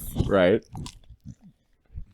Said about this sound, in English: is chewing on her bone